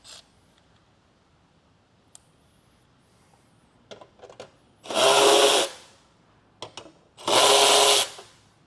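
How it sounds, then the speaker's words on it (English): Nuts come off a headlight's metal casing under a power driver, two loud bursts of whirring buzz about a second long, separated by small clicks and handling taps in a quiet room. "now we're going to go ahead and remove these nuts so that we can open up this metal casing"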